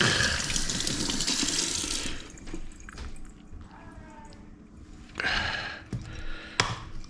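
Running tap water splashes into a sink as raw jerk chicken is rinsed, a loud steady gush for two seconds, then quieter trickles with short bursts of flow and a brief clatter near the end.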